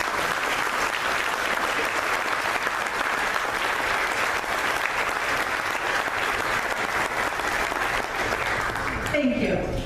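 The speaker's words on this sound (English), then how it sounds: "Please join me in a round of applause." An audience at the 2016 ATHENA Award luncheon gives a steady, full round of applause for about ten seconds, tapering off sharply at the very end.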